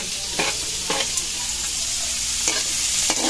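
Chili and onions sizzle steadily in hot oil for a tuna eggplant torta, with a few sharp stirring scrapes punctuating the continuous frying hiss.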